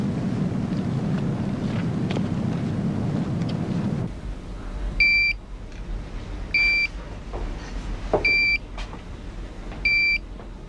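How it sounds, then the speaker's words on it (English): An alarm beeps repeatedly in a steady pattern of short, high electronic tones, four bursts spaced a second or two apart over low background rumble. "she's only set off one alarm."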